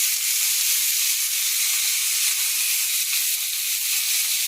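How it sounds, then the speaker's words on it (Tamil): Stuffed bitter gourd frying on a hot flat griddle, giving a steady, even sizzling hiss that carries on unbroken, close and fairly loud. "நல்லா கொஞ்சம் வறுத்து எடுக்கணும்"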